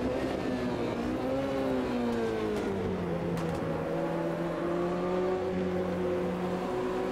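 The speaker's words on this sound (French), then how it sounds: "Allez, gros freinage là ici." Single-make race car on the Brno circuit in Automobilista 2, engine pitch dropping smoothly as the car brakes hard for a corner, then a steady lower drone, close and continuous with no talk.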